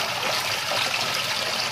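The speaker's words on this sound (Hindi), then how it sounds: "ठंडे पानी से गुजारेंगे" Cold tap water runs steadily over cooked pasta being rinsed, a close, continuous splashing rush that lasts a couple of seconds and then stops abruptly.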